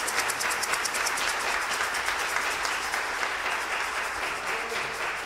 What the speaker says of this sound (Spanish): den un gran aplauso para su coro